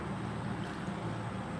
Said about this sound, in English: I can't hear him with this stupid motorcycle.